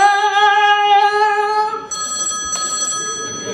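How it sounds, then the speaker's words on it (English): A telephone rings onstage during an amateur theatre production of The Wedding Singer musical, a bright sustained electronic ring lasting under two seconds before giving way to a quieter room tone with a brief click. "I'm just gonna go answer the phone."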